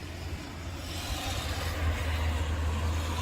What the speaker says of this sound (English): You can hear the cars that pass, you can hear that.